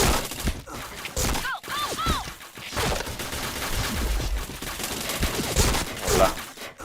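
Gunfire in the Point Blank shooter game, rapid bursts of close, loud shots repeating irregularly over several seconds amid sharp ricochet-like whines.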